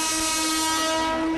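On its inaugural run on the Beed–Ahilyanagar railway line, a train sounds a loud, steady horn that holds unbroken throughout, with a broad rumble of rail noise beneath it.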